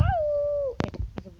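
A wolf in a Roblox video game gives a short, steady, high howl that holds one pitch, followed by a few sharp clicks and brief muffled noises.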